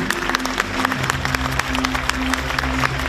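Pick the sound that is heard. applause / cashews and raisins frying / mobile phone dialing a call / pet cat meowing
applause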